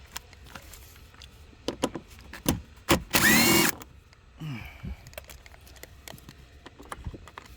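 A cordless power tool gun whirs in one loud burst of just under a second, removing 10mm dash bolts from a 2021-2025 Nissan Rogue, surrounded by quiet clicks and handling knocks.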